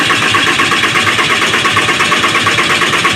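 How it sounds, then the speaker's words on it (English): A Dodge 6.7 Cummins turbo diesel cranks over continuously, a loud, close, rhythmic chugging of the starter turning it without catching. "have an assistant crank the engine over"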